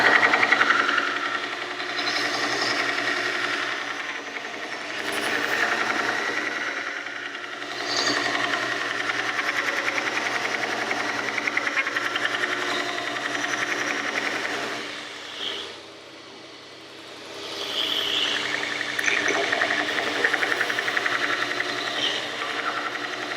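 A knife blade is ground on a 944 flat platen belt grinder, a steady buzzing whir with rough rasping contact that fades briefly midway before resuming, close and continuous with no talk.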